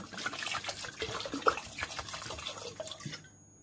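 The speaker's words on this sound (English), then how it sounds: "Then finally, I'm gonna tip in my wine." Wine is poured into a pot for mulled wine, giving a close, continuous splashing and gurgling that ends abruptly.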